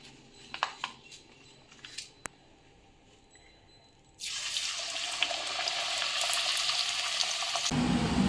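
Nippattu, a crisp rice-flour snack, is dropped into hot oil in a home kitchen. After a few seconds of quiet clinks, a loud, steady frying sizzle starts suddenly and keeps up to the end.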